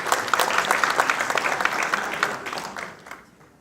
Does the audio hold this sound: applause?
yes